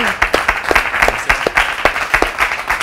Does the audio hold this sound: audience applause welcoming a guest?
yes